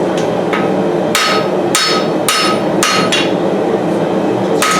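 A hammer strikes hot steel as a knife taper is forged, ringing blows landing in a steady rhythm about every half second, loud and close over a constant roar, presumably the gas forge.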